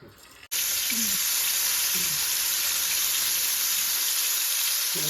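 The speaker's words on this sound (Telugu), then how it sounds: "ఇట్లా మనం ఈ ఆయిల్లో ఇవి సిమ్ములో వేయించుకోవాలి" Prawns coated in chilli powder fry in hot oil over a low flame, giving a steady, continuous sizzle that starts abruptly after a brief quiet moment and holds at an even level.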